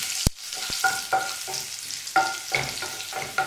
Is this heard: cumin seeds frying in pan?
yes